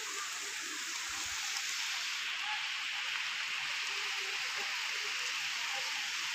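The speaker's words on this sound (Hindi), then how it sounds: "रिम झिम" Light rain patters steadily in a constant broadband hiss, with faint low sounds in the background and no voices.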